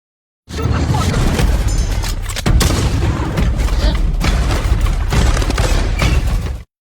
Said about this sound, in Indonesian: Lalu, suara tembakan terdengar.